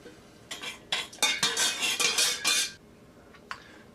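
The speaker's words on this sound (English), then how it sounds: "Stir that real good." A metal spoon stirs sugar into water in a glass or jar, a quick run of scraping, clinking swirls lasting about two seconds, then a single light tap, with no voices.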